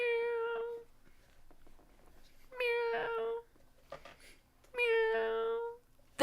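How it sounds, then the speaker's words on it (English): A cartoon kitty cat meowing as a super sticker alert on a live stream, three clear, close meows evenly spaced with short silent gaps between them. "New foe says, meow, meow, meow."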